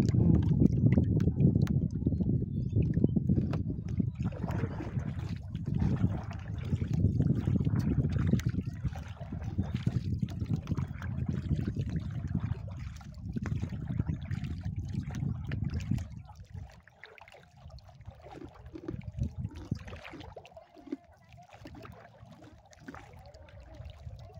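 A small boat crosses the open sea with a loud rumbling engine and splashing water, then the engine drops away and leaves quieter lapping and trickling water toward the end.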